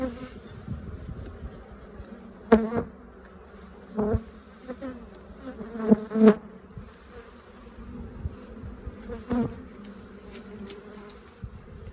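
Honey bees buzz close by as they enter the entrance of a Flow Hive in spring, a steady hum with several louder passes of individual bees near the microphone.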